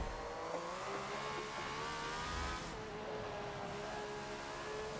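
A racing engine from a 1976 Ferrari F1 car whines steadily at high revs on Laguna Seca in Forza, its pitch rising and falling slightly as it runs continuously.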